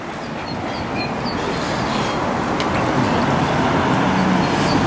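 A passenger train runs on rails at about 40 miles an hour on a line with a request stop, giving a steady, loud rumble with faint clickety-clack, heard alone from onboard.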